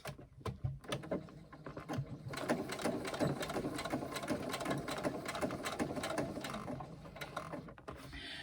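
A sewing machine runs a 3/8 inch seam down a carry-all tote, its needle clattering in rapid mechanical bursts that start with a few short stitches then run continuously, close and loud, with no talk.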